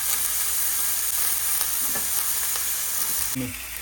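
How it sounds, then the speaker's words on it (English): Boudin-stuffed pork chops searing in a hot skillet, producing a loud, continuous hiss and sizzle close by, with a faint thump as it eases slightly near the end. "We're gonna sear those for probably 2 or 3 minutes, and then we'll flip them and sear them on the other side."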